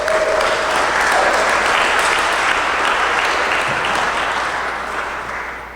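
Sustained applause from an audience at a memorial gathering for musicians who have just performed, a dense steady wash of many hands clapping that fades slightly toward the end.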